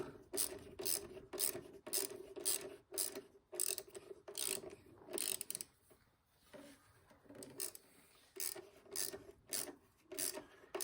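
A ratchet tightens an 8mm bolt on the lower intake manifold of a 1995 Ford Mustang, giving a quiet, steady series of close clicking strokes with one brief pause midway.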